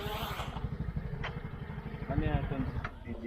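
A small Eachine EX2H dual-mode quadcopter drone hovers nearby, its steady buzzing motor whine running continuously beneath people talking.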